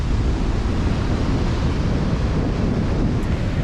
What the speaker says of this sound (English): It's so strong, this wind.